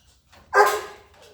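A dog barks once in a single loud, close bark that fades away, with a fainter yip just before it, at a dog training school.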